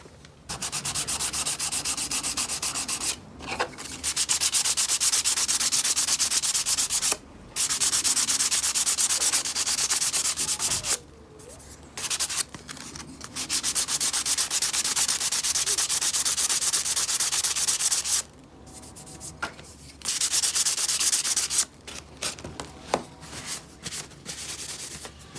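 Sandpaper rubbed by hand over a spalted wood coaster made from firewood: steady, loud back-and-forth scratching in long runs, broken by brief pauses, close up with no talk.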